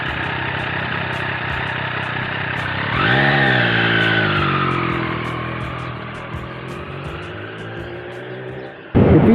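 Triumph Street Triple R motorcycle engine, heard up close as a steady mid-pitched drone that swells as the bike pulls away, holds its note and eases off slightly, ending with a sudden loud burst.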